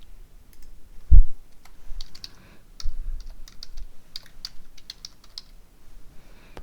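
Quick bursts of clicky computer keyboard typing, up close and fairly crisp, with a dull thump near the start and brief pauses between the keystroke runs, no voices.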